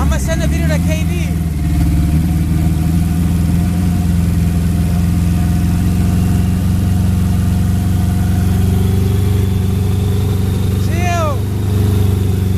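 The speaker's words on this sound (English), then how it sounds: "Hurry up and start the car, Adam. That's injectors." A car with a turbocharged, E85-fuelled B20 VTEC engine runs at a loud, steady idle after starting, with a light injector tick in the running note and people talking over it.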